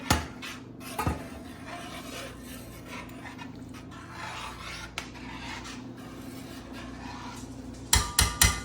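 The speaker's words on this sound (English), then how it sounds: "We're just going to stir this to incorporate." A spoon scrapes and rubs steadily through a butter, mushroom and herb sauce in a pan for braised short ribs, close and continuous with a few sharper clinks at the start and end.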